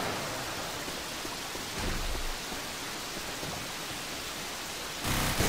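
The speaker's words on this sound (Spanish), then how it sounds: "Está lloviendo, una tormenta," Steady heavy rain hiss of a rainstorm in Left 4 Dead 2, with a stormy, broadband rush that swells briefly twice, continuous and close, no voices.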